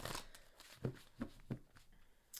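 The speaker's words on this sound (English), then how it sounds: "I'm going to shuffle these quick as well." Quiet, quick riffles and soft taps of oracle cards being shuffled, several short bursts close by with no talking.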